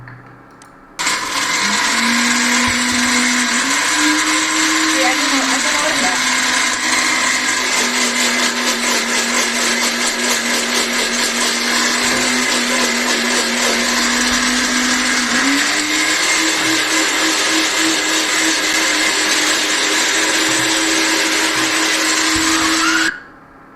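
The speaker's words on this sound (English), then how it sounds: "include the biscuits in the blender and smash them as if they were something similar to a pounder" A blender runs steadily for about twenty-two seconds, crushing biscuits into crumbs. The motor whines loudly with small shifts in pitch as the load changes, then cuts off.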